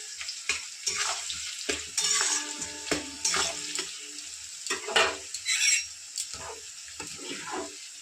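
Food frying in a pan with sugar added, stirred hard, giving near scraping and clattering strokes over a continuous sizzle, with no talking.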